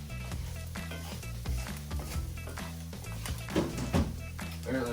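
Eggs for a venison scramble sizzle on a Blackstone griddle in a continuous frying hiss, with occasional utensil scrapes over background music.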